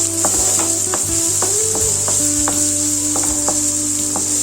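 Tempering seeds and thinly chopped large onions sizzle steadily in hot oil for a taro curry, with scraping stir strokes and light knocks repeating through the close, continuous frying hiss.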